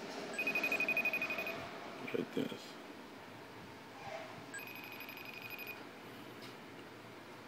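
A FaceTime call rings out on an iPhone as two separate bursts of a repeating electronic tone over steady room hiss, with brief talking and handling noise between the rings.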